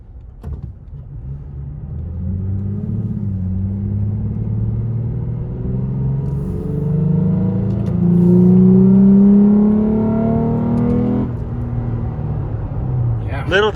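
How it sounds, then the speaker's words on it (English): Third-generation Toyota Tacoma with an OV tune revving on a drive, its intake note climbing in pitch, peaking and easing off beneath close engine rumble, with a voice at the very end. "You hear that intake?"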